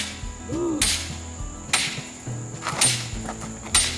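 A hammer striking four times, each sharp close blow roughly a second apart, with quieter knocks and rustling in between.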